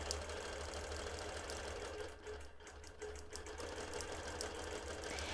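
A BERNINA Q-Matic quilting machine stitches an edge-to-edge pattern, its steady motor hum and rapid needle chatter running continuously and close, with a brief dip in intensity midway.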